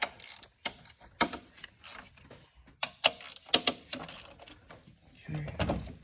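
A hand ratchet clicks in short irregular bursts while loosening 13 mm bolts on a 6.0 Powerstroke engine, with sharp metallic clicks and clunks scattered over several seconds and a voice in the background.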